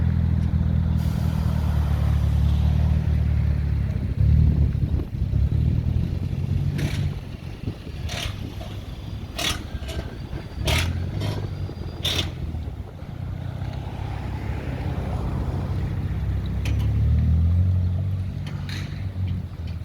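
A car on fresh track-day tyres pulls away toward an alignment machine in a workshop, giving a steady low engine rumble that swells and eases, with scattered clicks and clatter over it and no talking.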